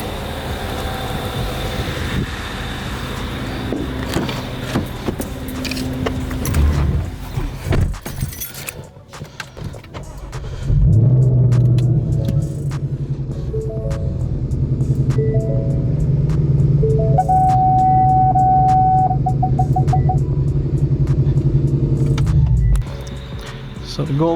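A supercharged Ford Mustang is driven off a tow truck and into a garage. Clatter and metallic knocks come first, then a steady, loud engine drone holds for about twelve seconds before cutting off.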